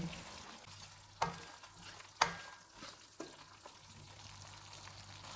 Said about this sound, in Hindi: चूल्हे को लो टू मीडियम कर देते हैं और इसको 2 से 3 मिनट तक भूनेंगे